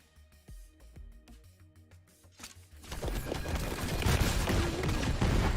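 A Torgue grenade launcher in Borderlands 3 fires off a string of sharp blasts that build into a dense, continuous barrage of explosions and gunfire, growing louder toward the end.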